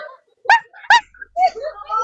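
A person imitates a German Shepherd barking, two sharp voiced barks followed by whiny yelping sounds, close and loud, with a bit of speech mixed in.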